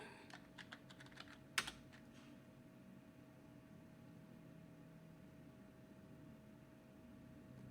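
Password typed on a computer keyboard, a quick burst of soft close key clicks ending in one sharper keystroke, followed by several seconds of quiet background hiss.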